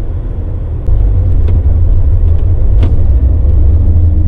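A Jeep Grand Cherokee ZJ with a 4.0-liter engine and a manual swap idles low around 1,000 RPM, giving a steady, loud, deep rumble with a faint whir on top and no revving.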